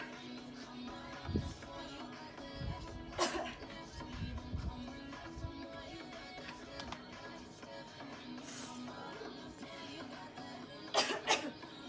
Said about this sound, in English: Stupid cough, hay fever.